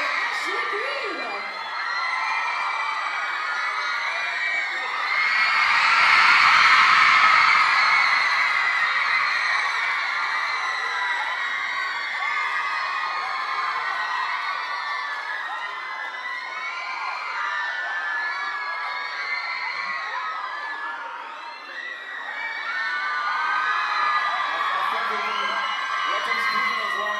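Large crowd at a Twilight Saga Breaking Dawn fan event in Brussels, cheering, whooping and shouting continuously, with excited children's voices in the mix. The noise swells to a loud peak a few seconds in, then settles into a steady roar.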